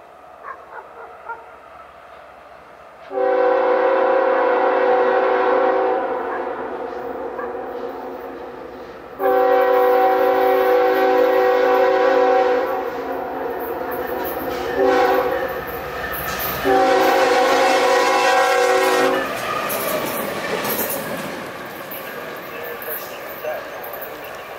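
Norfolk Southern freight train passing westbound at night, its horn blaring in three long chord blasts over a steady rolling rumble of wagons, loud and close.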